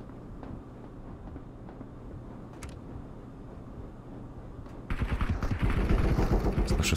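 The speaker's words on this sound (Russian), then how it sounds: "Слышу стрельбу перед" Gunfire erupts in the Marauders video game, a loud, rapid burst of automatic shots that breaks in after several seconds of low rumbling ambience and continues densely to the end.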